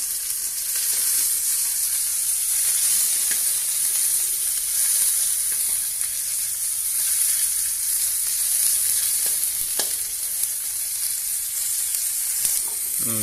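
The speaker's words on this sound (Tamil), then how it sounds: "தக்காளி ரெடிங்க நல்லா வதக்கியாச்சு" Tomatoes sautéing in oil for pirandai chutney: a steady, close hiss of frying that holds evenly throughout, with occasional soft stirring clicks and a faint scrape near the end.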